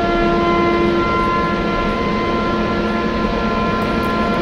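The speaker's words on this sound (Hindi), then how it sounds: "एक बार हॉर्न बजा देते हैं यहाँ से" A train horn sounds in the Train Simulator Railworks game, blaring as one long continuous tone over the steady rumble of the locomotive.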